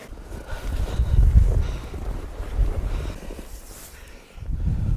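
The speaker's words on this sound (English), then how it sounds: "Wow, still windy right now." Strong gusty wind on a frozen lake during a winter snowstorm, rumbling and buffeting the microphone in surges, loud and close with no talk.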